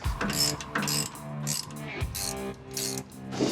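A ratchet clicks as bolts are fitted on a 1925 fire truck, several bursts of quick pawl clicking separated by brief pauses, close and moderately loud, no talk.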